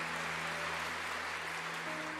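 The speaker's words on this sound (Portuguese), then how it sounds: "Pode aplaudir." A church congregation claps together after a sermon and prayer, a steady, moderately distant patter of many hands, with a faint low hum running underneath.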